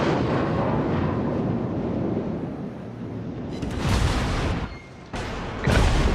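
Main guns of a warship firing a salvo in a naval video game, heavy booming blasts over a steady low rumble of engine and sea noise, with a second loud report near the end.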